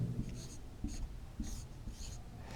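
Pen or chalk strokes on a board during a maths lesson on division for a 10th-class student: several short scratchy bursts in an irregular rhythm, close and fairly quiet.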